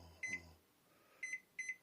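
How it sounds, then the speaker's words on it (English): Microwave oven keypad beeping while frozen food is set to steam in a steamer dish, three short electronic chirps, the first around 0.25 s and two more near the end, clear and close in a quiet kitchen with no talking. "Microwave."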